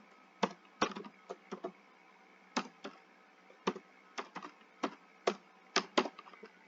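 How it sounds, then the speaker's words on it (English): Soft computer keyboard typing clicks along in irregular clusters of quick taps, close up and fairly quiet, with brief pauses between bursts. "I've typed the email address"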